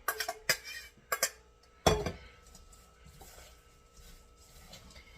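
Apples, pears and cranberries stirred together in a bowl, giving a few sharp clinks and knocks at the start, then quieter rustling and scraping.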